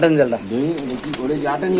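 Pigeons coo in low, rolling murmurs at a crowded pigeon market, close and steady through the whole short stretch, with people's voices mixed in.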